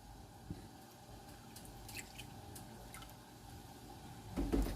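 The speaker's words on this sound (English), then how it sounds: "to that, I'm adding some milk" Milk poured into a beaten egg to make batter for frying cauliflower: a soft, quiet liquid trickle close by, ending in a brief louder splash.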